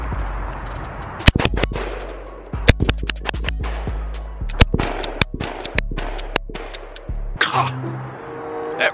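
A JTS semi-auto shotgun fires rapidly, making a loud, close string of sharp blasts in quick irregular succession with echoing tails between shots.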